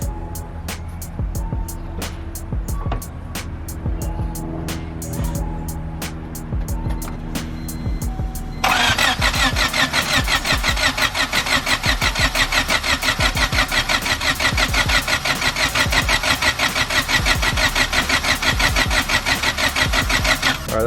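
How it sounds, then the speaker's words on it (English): Turbocharged Honda D16 engine in a Civic cranked over with its injectors unplugged to build oil pressure: a steady, loud rhythmic starter-motor churn that grows louder and harsher partway through and never catches. "I'm going to crank it, get some oil pressure going."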